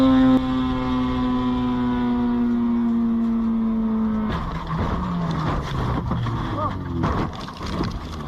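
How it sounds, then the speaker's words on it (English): At a chicane, a race car's engine holds a steady high note, then breaks into skidding and crashing noise with harsh bursts and scraping, loud and close, while a commentator talks over it. "Massive accidents at the chicane."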